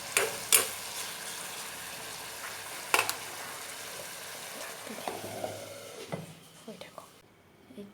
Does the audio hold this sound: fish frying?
yes